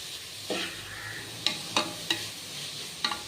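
Meal maker soy chunks sautéing in a pan, a soft continuous sizzle broken by several distinct scraping stirs of a spatula against the pan, close and alone without talk.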